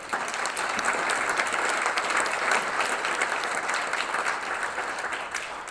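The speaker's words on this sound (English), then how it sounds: "if we can give them a quick round of applause" An audience at a community event on Opportunity Zones gives a steady round of applause, dense clapping throughout at moderate loudness with no talking over it.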